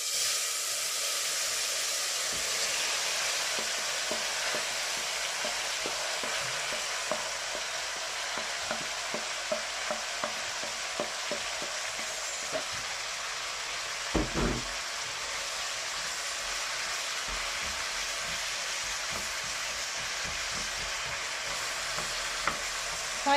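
Onions sizzle steadily in a hot pan for a vegan sweet and spicy sambal, a dense continuous hiss with scattered spoon scrapes and one louder knock partway through, no voices.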